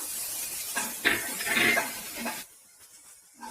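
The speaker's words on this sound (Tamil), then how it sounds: "இது கூட நம்ம எடுத்து வச்சிருக்க இஞ்சி பூண்டு விழுது சேர்த்திக்குவோம்" Shallots with ginger-garlic paste sauté in a pan for a country chicken pepper fry, giving a hissing sizzle and stirring scrapes that stop abruptly, leaving near quiet.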